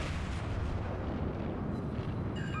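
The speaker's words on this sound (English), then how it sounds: "Just got those rear cannons in position. And fire." Rear ship cannons fire in World of Warships, a sustained heavy booming roar of naval artillery that fills the whole stretch at steady loudness, with a faint ringing tone near the end.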